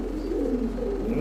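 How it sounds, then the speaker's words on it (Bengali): Pakistani Kaldam pigeons coo in low, continuous throaty murmurs, close and steady, with no voices over them. "খুব সুন্দর পাকিস্তানি কালদম একটা মাদি কবুতর দর্শক"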